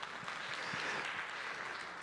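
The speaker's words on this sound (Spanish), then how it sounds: "A usted mismo, dése ese fuerte aplauso para usted." Sustained, even applause from a church congregation during a sermon on the power of prayer, a thick wash of many hands clapping at once, loud and continuous throughout.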